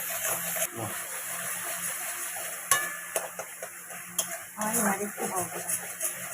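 A spice paste with chilli is sautéed in a pan, a soft sizzle broken by spatula scrapes and clinks against the pan, with a voice talking intermittently.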